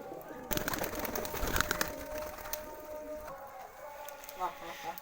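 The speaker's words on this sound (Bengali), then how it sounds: "এরপর আমরা কবুতর ছাড়লাম।" Pigeons cooing and fluttering nearby just after release, amid a busy outdoor wash of noise, with faint voices in the background.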